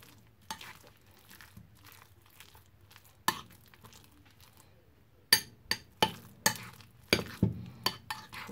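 A spoon works through fish fritter batter in a bowl, producing quiet scattered taps and scrapes that become quicker, louder clinks in the second half, with no one talking.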